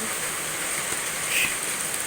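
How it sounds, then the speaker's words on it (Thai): Heavy rain falls in a Thai rural setting as a steady broadband hiss, with a faint brief higher tone rising midway over the constant downpour. "ว่าฝนเริ่มตก อันนี้แม่นเทือที่สองแล้วเนาะฝนตกเนาะเทือที่สองแล้ว"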